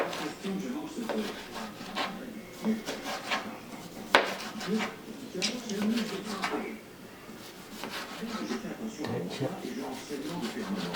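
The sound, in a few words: knife cutting thin slices on a board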